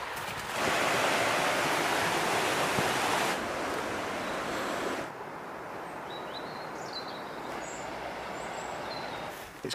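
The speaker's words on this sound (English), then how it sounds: "watch the water flow past for a while" The South Tyne river rushes steadily past a small railway viaduct, louder at first then softer, with a few birds chirping faintly in the background.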